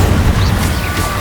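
Spell-casting effects from the Hogwarts Legacy video game on PlayStation 5, with an Incendio fire spell among them: a dense, continuous low rumble with whooshing bursts flaring above it, loud and close, without speech.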